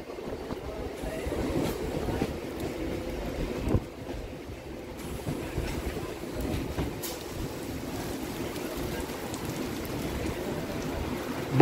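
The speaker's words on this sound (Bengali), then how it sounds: "বৃষ্টি চলছেই।" Steady rain and rumbling motion of a Howrah–Barddhaman MEMU local train at night, a constant wash of noise with occasional knocks, no voices.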